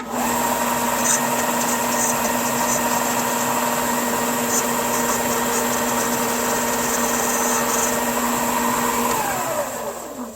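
A belt sander smooths a prop chainsaw arm, a loud, steady motor whine with grinding that holds at close range for about ten seconds before the pitch drops as it winds down, with no talking.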